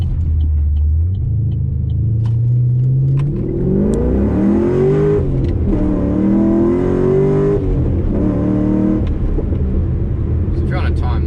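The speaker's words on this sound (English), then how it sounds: "That is a 0 to 100 and like 20 pull." HSV Clubsport Gen F, bagged and cammed, accelerating hard from standstill to about 100 km/h, the loud engine note climbing steadily through rising gear pulls with brief drops at each shift, close and continuous.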